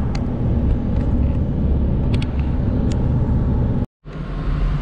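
Road traffic in Huntsville, Alabama forms a loud, continuous low rumble of car engines and tires, with faint higher clicks and a sudden short cut-out near the end.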